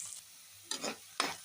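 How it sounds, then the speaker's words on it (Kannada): Onions frying in a pan for a ridge gourd and potato dish, with quick bursts of stirring and sizzling scrapes, two or three short strokes separated by brief quiet gaps, close and fairly soft. "ಈರುಳ್ಳಿ ಚೆನ್ನಾಗಿ ಸ್ವಲ್ಪ ಫ್ರೈ ಮಾಡ್ಕೊಂಡ್ಬಿಡೋಣ"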